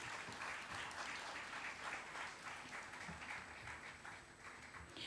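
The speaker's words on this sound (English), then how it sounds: "Let us welcome them with a resounding round of applause." Dense, steady audience applause greets dignitaries being escorted onto a stage at a formal ceremony, many hands clapping together at an even level for the whole stretch with no voices over it.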